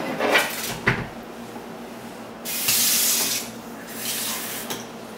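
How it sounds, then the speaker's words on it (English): A tiny bit of water is poured over a basa fillet dressed with lemon juice and dill, in two brief, close, hissing streams after some clatter. "I'm going to put a tiny bit of water"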